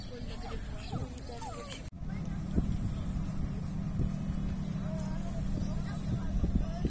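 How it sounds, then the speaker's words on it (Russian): A motorboat passes on a lake, its engine a low, continuous hum from a moderate distance, with people chatting nearby and light wind over the microphone. "Хорошо плывет, а? Но плохо, что без нас. Катер."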